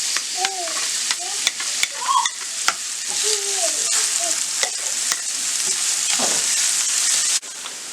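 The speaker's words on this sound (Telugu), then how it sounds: "ఒక ఆనియన్ స్మాల్ పీసెస్ కట్ చేసుకొని వేసుకొని ఫ్రై చేసుకోవాలి" Chopped onion frying with cumin and pepper in a pan, a steady close sizzle with stirring scrapes and clinks throughout, plus a few brief squeaky tones early on.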